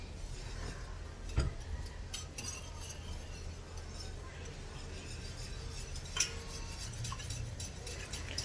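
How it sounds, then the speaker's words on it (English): A milk sauce is stirred in a pan over medium heat, a soft continuous scraping and rubbing with occasional light metallic clinks against the pan, close and fairly quiet. "We mix it well."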